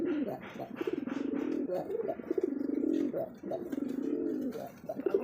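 A desi Rajgolla pigeon coos repeatedly in low, throaty rolling calls, close and steady, with someone talking intermittently between and over the cooing.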